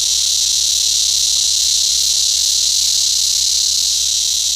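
A cicada buzzes very loudly and close, one continuous high, shrill drone that holds at full intensity throughout without a break, with nothing else audible.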